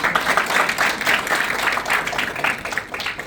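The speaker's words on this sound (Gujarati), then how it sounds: "જોરદાર તાળી થઈ છે." Loud, steady applause from a group during a relaxation and breathing session, continuous clapping filling the whole stretch with no voices over it.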